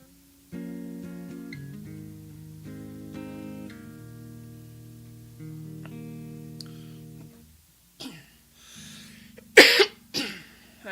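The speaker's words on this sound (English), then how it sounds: "I keep coughing." A performer playing a live Sunday set coughs a few times, sharp harsh bursts near the end, following a stretch of sustained instrumental chords played alone.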